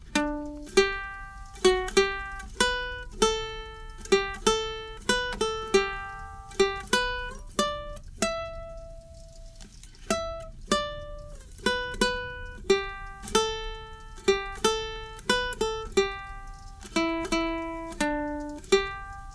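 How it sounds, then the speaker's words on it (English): A plucked ukulele picks out the melody of Auld Lang Syne note by note at a steady, unhurried pace, played solo and close. "Now let's play the lead ukulele version."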